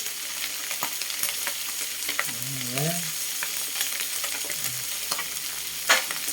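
Galunggong (scad) fish frying in hot oil, a dense, continuous crackling sizzle with scattered pops and a faint voice murmuring briefly in the middle.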